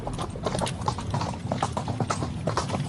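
Horse hooves clip-clop in a quick, steady rhythm, close and distinct, the hoofbeats repeating evenly over a low background rumble.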